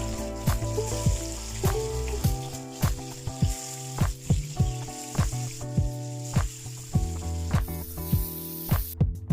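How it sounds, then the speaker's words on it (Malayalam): Marinated masala fish fries in hot oil, a continuous loud sizzle with regular taps and scrapes from a utensil against the pan, close by. "ആ ഓയിൽ ഒന്ന് ചൂടായി വരുമ്പോൾ നമ്മൾ മാരിനേറ്റ് ചെയ്ത് വെച്ചിട്ടുള്ള മീൻ അതിലോട്ട് ഇട്ട് കൊടുക്കാം"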